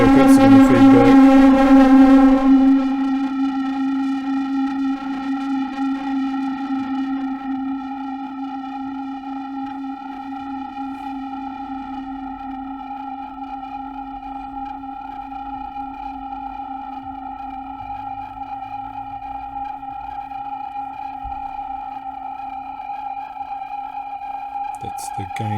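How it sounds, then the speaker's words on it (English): An Audrey II synth rings out as its delay and reverb circuits feed back, a busy tone that settles into a sustained stack of pure, steady pitches that hang and slowly fade, with a brief burst at the very end. "The delay and reverb circuits are going to feed back."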